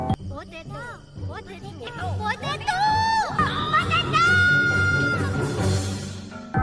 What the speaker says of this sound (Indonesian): Akhirnya malam itu, desa diramaikan dengan teriakan potato.